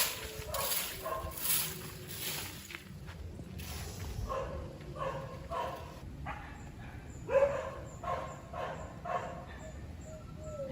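A dog barks repeatedly in short, evenly spaced bursts at a moderate distance, its barks mixing with footsteps and light background noise, with no clear talk over it.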